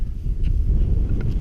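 Gusty wind buffets the microphone in low rumbling bursts on an open valley viewpoint in the German countryside, steady and close, with no voices.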